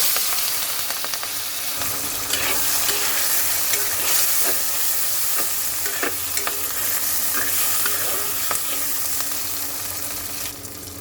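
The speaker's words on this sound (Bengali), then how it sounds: "এখন আমি দিয়ে দেব কেটে রাখা আলু আর কাঁচা লঙ্কা" Cut potatoes and green chillies fry in hot oil over a cumin and bay leaf tempering, giving a loud, continuous sizzle with repeated scraping stirs of a spatula, close up and without speech.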